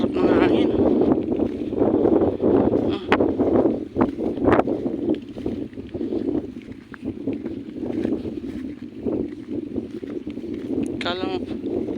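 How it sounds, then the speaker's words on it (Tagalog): Wind gusts buffet the microphone outdoors beside a fish pond, rising and falling in loud bursts while people talk over it and a brief rattle or frog-like croak appears near the end. "Ang sarap ng hangin."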